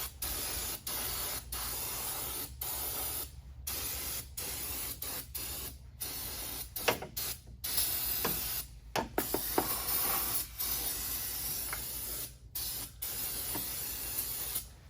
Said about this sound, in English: And then final rinse. Starter fluid.